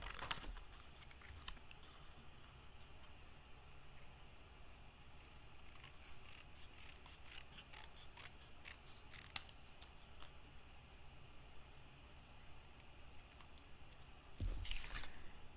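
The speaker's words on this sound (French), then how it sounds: "il faut que je le découpe avec mes ciseaux" Scissors snip through paper to cut out a small mound shape for a handmade card with an original opening; the cuts are faint, close and irregular, with short crisp snips spread over a quiet room.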